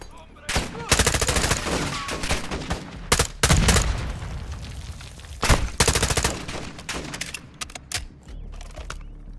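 Rapid bursts of gunfire from a player's weapon in the Call of Duty: Modern Warfare II campaign, loud sharp volleys separated by short pauses, with some voices in between.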